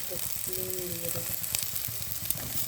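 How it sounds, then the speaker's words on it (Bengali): Onions frying in a pan for a spinach and egg dish, a steady close sizzle with some stirring, while a voice talks briefly over part of it. "পেঁয়াজগুলো লাল লাল করে ভাজা হয়ে গেছে"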